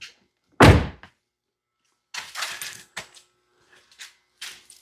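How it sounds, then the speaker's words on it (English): The door of a 2020 Ford F150 pickup swings shut with a single solid thunk, followed by lighter clicks, rattles and small handling sounds in an otherwise quiet space. "I'm going to close the door."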